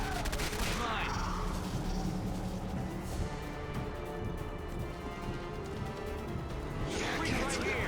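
Sustained rapid automatic weapon fire in the Quake 4 shooter on Xbox 360, dense and loud with crashing impacts and a few bursts over a constant roar of battle.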